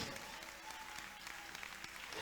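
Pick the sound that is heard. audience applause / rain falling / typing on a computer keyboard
audience applause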